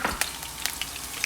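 Green peppers and onions frying in hot grease before a steak goes in, a steady close crackle with scattered sharper pops and no talk.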